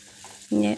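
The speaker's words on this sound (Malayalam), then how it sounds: "ഇനി മുളകിട്ട് കൊടുത്തിട്ട് ഒന്ന് മൂപ്പിച്ചെടുക്കുക" Crushed dried chili dropped into hot oil in a pan for a Kerala bean and prawn thoran, a brief sharp sizzle bursting up after a quiet moment, with no talking.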